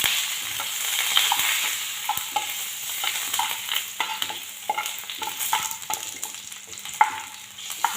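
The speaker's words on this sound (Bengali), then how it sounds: "দিয়ে দেব রসুন কুচি, এলাচ আর দারুচিনি দিয়ে নেড়ে চেড়ে দিচ্ছি।" Garlic, cardamom, cinnamon and bay leaf frying in oil for a sweet-sour mango pickle, a steady sizzle broken by a string of quick spatula scrapes and taps against the pan, close and alone.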